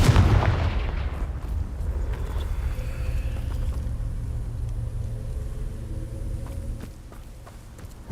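A Confringo fire spell bursts loudly in Hogwarts Legacy with a sharp booming explosion at the start, then a long rumbling, crackling tail of debris and fire that slowly fades.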